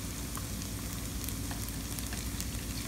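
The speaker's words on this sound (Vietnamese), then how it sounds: "Tiết kiệm thời gian mình chiên hai chảo luôn mọi người ơi" Batter cakes fry in two pans at once, giving a steady, dense sizzle of hot oil close up, continuous with no pauses and no talking.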